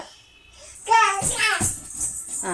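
A small child imitates a crow's cawing with a handful of short, harsh voiced calls in an uneven rhythm, close and clear, following a quiet start.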